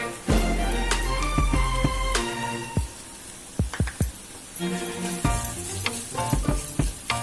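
Spices such as turmeric and asafoetida sauté in hot oil for a cauliflower paratha filling. The sizzle is broken by loud, irregular clanks and scrapes of a utensil against the pan.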